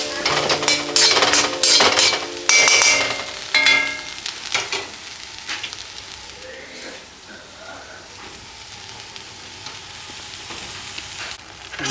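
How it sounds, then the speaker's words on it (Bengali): Spices frying in a pan while cooking a fish dish, sizzling with clinks and scrapes of stirring that are loud at first and then settle into a quieter, steady sizzle. "মশলা ভাজা হয়ে গেছে"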